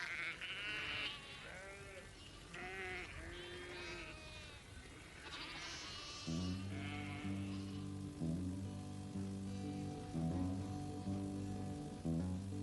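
Several sheep bleats in the first half, wavering and fairly close, then music with steady tones takes over from about six seconds.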